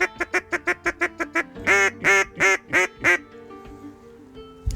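Handmade wooden duck call played in a soft style: a rapid run of about eight short quacks, then five longer, raspier quacks, close and moderately loud, fading to quiet at the end.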